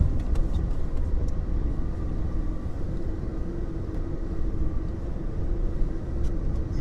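A Jeep Liberty pushes through deep snow in a blizzard, its engine producing a steady low rumble and road roar at moderate distance, continuous and unbroken, with no voices.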